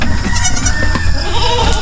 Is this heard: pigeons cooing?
no